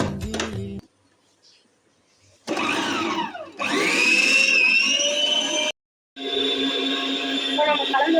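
An electric mixer whirs loudly in bursts as it beats butter into cake batter, its pitch rising and dipping with load, stopping and restarting between short pauses.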